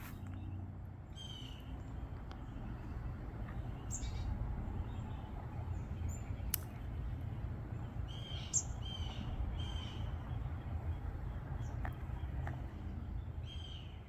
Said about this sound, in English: the birds, especially the little birds like the chickadees, you can hear them, they're tweeting up